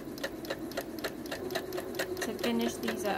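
A sewing machine top stitching and finishing Christmas stockings runs in quick, steady rhythmic bursts close by, with a person speaking briefly over the mechanical clatter.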